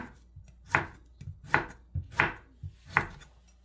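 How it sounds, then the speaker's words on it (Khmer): A long squash is cut into small pieces with a knife on a cutting board in a home kitchen for Korean seafood tofu soup: a steady series of crisp, close chops about once every three-quarters of a second, with lighter taps between them. "ចាយើងកាត់វាតូចៗបាទនឹងមក"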